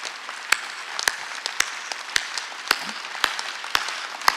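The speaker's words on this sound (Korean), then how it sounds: "박수 치라 이게" Church congregation clapping during a Sunday worship service, a steady wash of many hands with sharper individual claps standing out at regular intervals, fairly loud and continuous with no talk.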